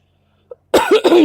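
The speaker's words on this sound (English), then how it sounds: "y'all got to excuse the cough" After a tiny click, a harsh, close cough bursts out in two quick rasping pulses, loud and alone.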